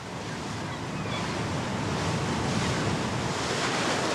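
Open sea washing and churning around a motorboat off La Gomera, a steady broad rush of water with wind buffeting the microphone, continuous and loud with no voices.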